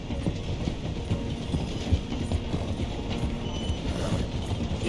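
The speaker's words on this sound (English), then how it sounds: "The train is slowing down to go through the station." Train rolling slowly through a station in Red Dead Redemption 2, a steady rumbling clatter of wheels and carriages with faint clip-clop of horses, continuous and moderately close with no talk.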